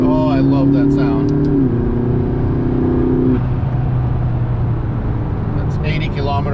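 McLaren MP4-12C engine in track mode downshifting, a loud close drone with stepped drops in pitch as gears change, then a steady rumble, with a voice talking over it.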